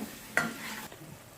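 Tuna fish, 200 grams, frying in a pan for a tuna salan, with one sharp scrape of stirring near the start and a soft, steady sizzle underneath for the rest of the moment.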